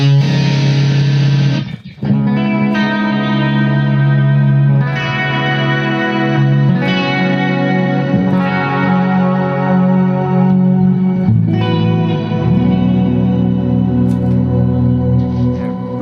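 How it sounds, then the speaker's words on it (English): An electric guitar played through an amp, drenched in heavy reverb and delay, rings out in sustained, swelling chords with long shimmering tails that keep washing on between strums, loud and alone with no voices. "Highly ambient stuff there as well, loads of reverb and delay that's still swimming away"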